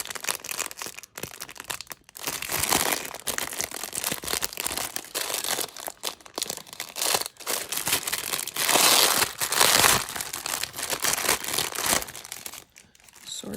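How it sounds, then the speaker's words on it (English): Plasticized thrift items, including Rugrats pieces, are handled and rustled in their crinkly wrapping, producing continuous close crackling and crumpling with brief pauses. "Sorry about the rustling."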